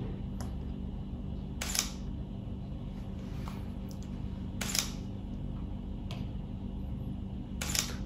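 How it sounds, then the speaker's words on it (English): Sharp mechanical clicks of a Sony camera shutter firing for a time-lapse repeat at regular intervals of about a second and a half, each crisp and close, over a low steady hum. "Now the shutter time is 1:50 on the Sony camera."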